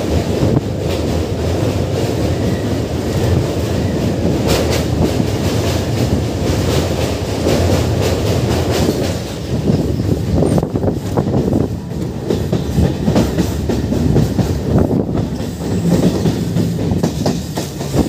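A Bandel–Naihati local train crosses the new Jubilee Bridge over the Hooghly River, recorded from on board: a loud, continuous rumble with rhythmic wheel clatter and gusty wind buffeting throughout.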